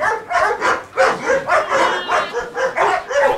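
Young puppy barking in a rapid series of about eight short yaps, close by and fairly loud, with no talk over it.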